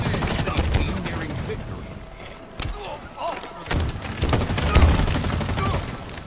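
Gunfire from the video game Halo Infinite, bursts of shots and impacts in dense, loud clusters under the game's action mix, with no talk over it.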